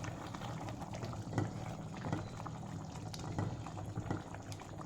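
Chicken simmering in tomato sauce with chili powder in a pot on the stove, giving a steady bubbling, sizzling wash with soft stirring scrapes throughout.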